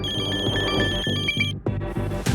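A telephone rings loudly and close by, its bell trilling in rapid repeated bursts that cut off abruptly partway through, followed by a few sharp clattering knocks.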